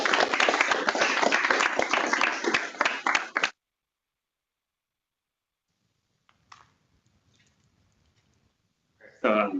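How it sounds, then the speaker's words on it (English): Audience applause for a speaker at an astronomy science talk, brisk clapping from a modest crowd for about three seconds before stopping abruptly, then near silence with faint sounds and a brief burst at the end. "let's give Peter another round of applause"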